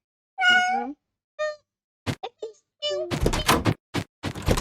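A few cartoonish cat meows in short bursts from the Cat Escape video game, followed by a thunk and busy game sound effects.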